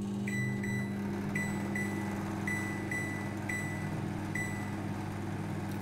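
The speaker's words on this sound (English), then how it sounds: "So I'm going to put the mold in the microwave" A microwave oven runs with a mold of dhokla, a savory steamed semolina cake, inside, giving a steady loud hum and whir with faint periodic high clicks or beeps throughout.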